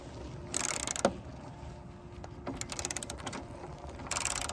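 A 1/2 inch socket ratchet clicks in quick bursts while loosening a nut on a 1973 Triumph Spitfire 1500, several short ratcheting runs separated by pauses, close and moderately loud.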